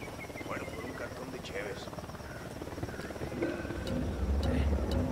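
A patrol helicopter in Ghost Recon Wildlands passes overhead, its steady low rotor drone rumbling beneath speech and growing louder toward the end.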